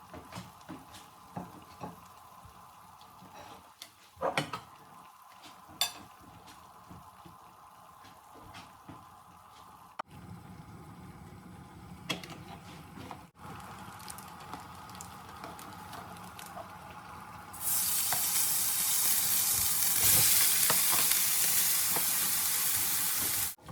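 Vegetables for bihon frying in a pan, a steady soft sizzle with occasional stirring clicks, building to a much louder, brighter hiss near the end, close and continuous with no talking.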